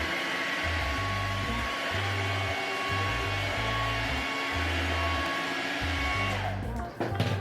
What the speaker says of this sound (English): just start blow drying towards the opposite side of my face